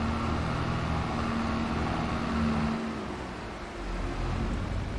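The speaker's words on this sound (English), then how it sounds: "this tractor is so loud in that building" A loud Farming Simulator 22 tractor engine echoes inside a building on the France map, a dense steady drone with a low hum that dips briefly and then carries on.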